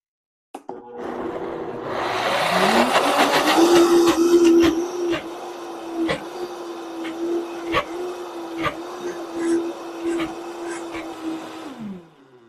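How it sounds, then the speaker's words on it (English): A blender whirs steadily, its motor straining and whining as it churns thick homemade vegan cream cheese, loud and close with rhythmic knocking pulses throughout. "It takes a little while for the blender to just grab it all and start to blend it smoothly"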